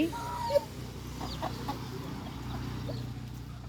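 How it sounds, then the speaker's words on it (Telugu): A small hen sheltering her chicks under her wings makes faint, low clucks, with a few brief chirps scattered over quiet farmyard background. "తన రెక్కల కింద అన్ని కోడి పిల్లల్ని దాచింది ఈ చిన్న కోడి"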